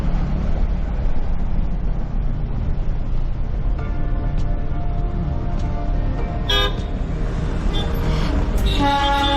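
A Darjeeling toy train runs along the Himalayan hill slopes, its rumbling, clattering run steady and loud throughout, with a few short horn toots breaking through near the end.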